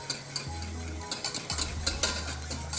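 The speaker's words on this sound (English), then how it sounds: "I'm going to whisk in our strained stock" Whisk rapidly beating strained stock into traditional gravy in a pan, brisk rhythmic metallic scraping and splashing strokes close up over a soft bubbling hiss, no speech.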